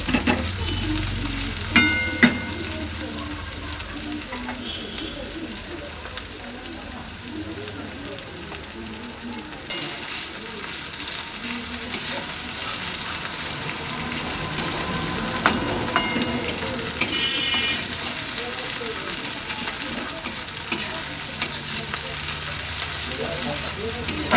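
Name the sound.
onions frying and being stirred until golden brown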